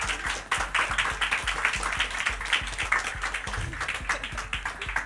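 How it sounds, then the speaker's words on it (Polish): Applause from an audience at a travellers' talk event greeting a nervous guest speaker: a lively mix of many hands clapping, with a few individual claps standing out nearby, continuing steadily without speech. "To może jakieś brawa?"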